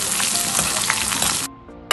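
Loud, close sizzling of onions sautéing in hot oil for a Kerala-style Malabar fish curry, with stirring clatter, briefly dropping quieter before flaring up again at the end.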